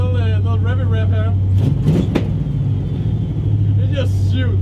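Pontiac Firebird with a 300 hp engine rumbling at a loud, steady idle close by, its exhaust note swelling briefly as it revs, with voices talking over it.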